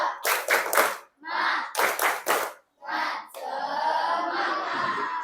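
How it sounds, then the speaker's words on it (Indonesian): A classroom of schoolchildren claps the tepuk semangat routine, two tight bursts of rapid clapping followed by shorter claps, ending in a loud crowd cheer of young voices. "Tepuk semangat."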